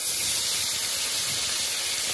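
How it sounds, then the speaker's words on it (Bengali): Pointed gourd peels frying with a little salt in a pan, giving a steady hissing sizzle that stays constant throughout, with no voices. "হালকা একটু লবণ দিয়ে নেড়ে চেড়ে ভেজে নিতে হবে।"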